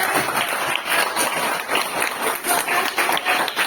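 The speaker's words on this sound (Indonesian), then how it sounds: "Tepuk tangan untuk teman kalian." Students in a classroom clapping for classmates who just presented, a steady patter of scattered hand claps at moderate volume, continuous for a few seconds with no talk over it.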